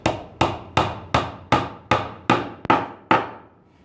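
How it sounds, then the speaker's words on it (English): Nine sharp hammer taps drive a wooden dowel peg into a hole in a steady rhythm, each knock close and crisp, the last ones slightly duller as it bottoms out before silence. "Then just tap that in place."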